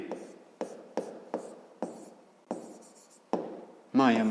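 Decimal numbers being written by hand on a surface during a fifth-grade maths lesson: a series of about eight sharp, evenly spaced strokes and taps, close and fairly loud, with a brief spoken word near the end.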